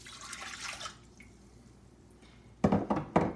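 Water poured into a bowl with instant yeast for Italian bread dough, a short splashing pour near the start followed by quiet and a few louder knocks.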